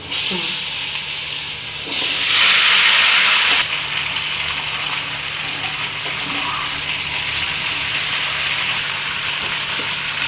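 Pumpkin and potato pieces drop into hot oil tempered with black mustard and five-spice, setting off a loud burst of hissing sizzle that settles into a steady fry, with a voice briefly audible.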